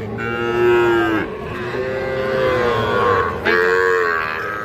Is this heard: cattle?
yes